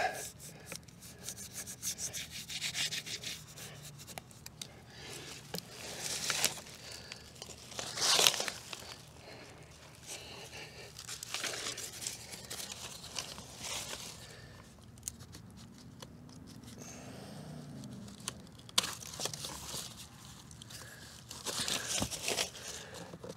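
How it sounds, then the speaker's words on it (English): Building paper or house wrap torn and crumpled during rotten lap siding replacement, with repeated crinkling, rubbing and tearing bursts close by over low background noise, no talk. "Tear the paper."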